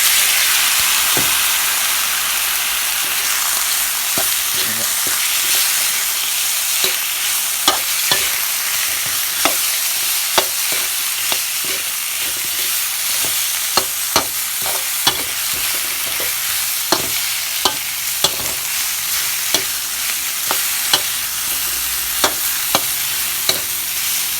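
Snakehead fish fries in hot oil in a Thai home kitchen, a loud steady sizzle and hiss with frequent sharp pops and crackles scattered throughout, close and continuous with no talk.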